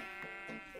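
A short, wavering sheep bleat from Minecraft, loud and close, heard alone.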